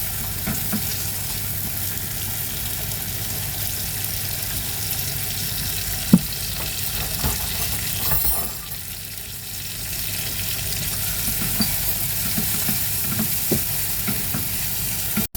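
Pasta sauce ingredients sizzle steadily in a pan, a continuous close frying hiss broken by occasional stirring clicks and one sharp knock, easing briefly before the sizzle swells again.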